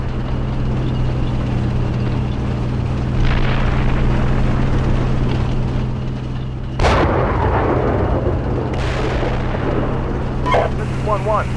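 Gunfire and explosions in the Steel Beasts Pro PE tank simulator, with a loud constant engine-like rumble, a sharp blast near the middle and more bursts later, and radio-style chatter under it all.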